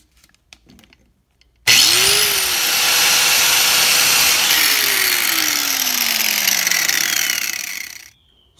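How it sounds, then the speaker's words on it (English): A power drill running continuously for about six seconds while drilling holes in a Bronco's pinch weld, loud and close, with a rising whir at spin-up and a falling pitch near the end before it stops. "So I got the holes drilled out."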